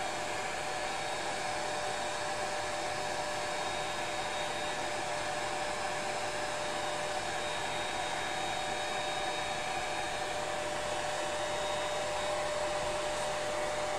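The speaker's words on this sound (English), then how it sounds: "forgive the noise, but I'm just gonna dry that real quick" A hair dryer blows steadily and loudly close by for the whole stretch, drying a craft project with an even, unbroken whoosh and no talking.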